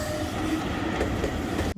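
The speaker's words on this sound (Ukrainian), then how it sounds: "потяг" A train rolls past in a brief, steady rumble with faint rhythmic wheel clatter and a light squeal, heard alone at moderate distance.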